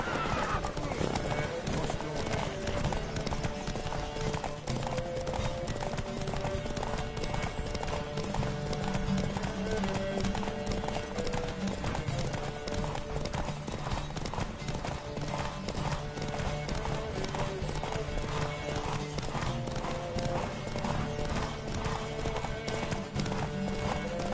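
Several horses galloping in a race in the Witcher 3 video game, dense continuous hoofbeats with neighing, under music and game sound effects.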